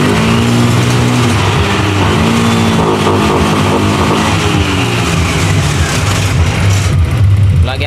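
A Yamaha NMAX V2 scooter with an ECU fault runs loud and close, its engine droning steadily while the pitch rises and falls with revving.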